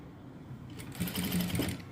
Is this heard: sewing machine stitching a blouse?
yes